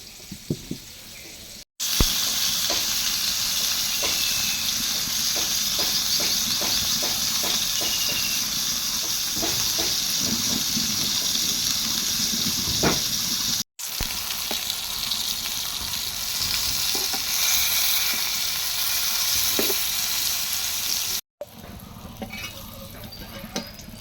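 Fish frying in a pan gives a steady, close sizzle and hiss that runs almost without a break, with a few short gaps and small crackles, and no talking.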